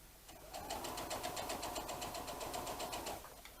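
A domestic sewing machine set to a 2.5 stitch length runs a steady seam on a child's apron, giving a quick, even mechanical rattle for about three seconds, fairly quiet and alone.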